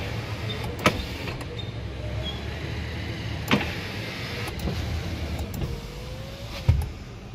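Power windows on a Nissan Frontier LE pickup, fitted with an automatic window module, whir up and down in several motor runs, each ending in a sharp thunk as the glass stops, close and fairly quiet with no talk.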